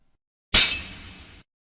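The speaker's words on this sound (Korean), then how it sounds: "손이 미끄러져 국그릇을 바닥에 떨어뜨렸습니다." A soup bowl slips from a hand and shatters on a floor, one sharp, loud crash followed by a short spray of scattering shards that fades within about a second.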